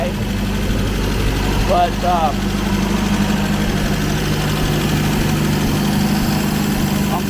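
An MGB engine idles a little high while warming up, a steady close rumble with a low hum throughout; someone speaks briefly over it.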